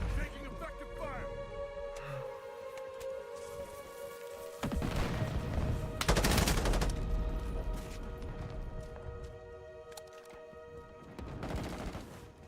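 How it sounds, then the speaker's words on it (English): Bursts of automatic gunfire and explosions in the video game Modern Warfare 4 (MW4), moderately loud fusillades with booms and crashes over a constant humming backdrop, punctuated by heavier blasts midway and near the end, with talk over it. "Taking effective fire."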